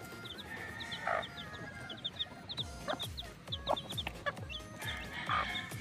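Chicks cheep in a rapid, steady high chatter at feeding time, with hens clucking and low pecking and scratching noises around them, fairly faint and distant.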